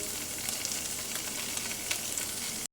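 Paneer shallow frying in a pan: a steady, close hiss and crackle of sizzling oil, continuous and even throughout, with no voices.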